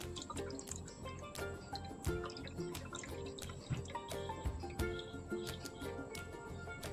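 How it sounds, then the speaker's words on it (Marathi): Crab broth water is strained through a sieve for a Konkani-style crab curry. Quiet, irregular drips and small trickles patter and splash on their own, with sharp little drops spread unevenly throughout. "आता मी सगळं हे पाणी गाळून घेते"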